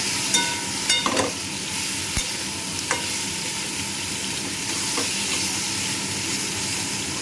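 Mixed vegetable curry being sautéed in a pan for a tiffin dish, giving a loud, steady frying hiss throughout with a few sharp knocks and scrapes of a spoon early on.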